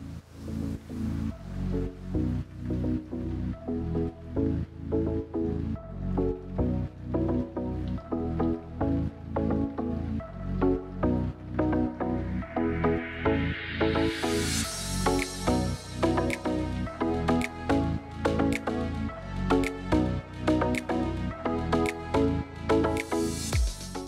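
A sponge with The Pink Stuff cleaning paste scrubs a bathtub in quick, rhythmic wet strokes, squishing and rasping close up and continuing steadily for over twenty seconds.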